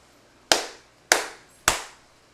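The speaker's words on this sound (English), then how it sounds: "I'm going to give us a clap in." Three sharp hand claps ring out alone at an even pace, about half a second apart, each crisp and close with a short decaying tail, made as a sync marker while recording a tattoo discussion.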